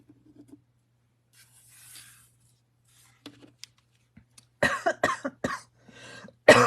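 A person recovering from a cold coughs several times in a quick cluster, close and fairly loud, after a quiet stretch with faint rustling and scratching sounds.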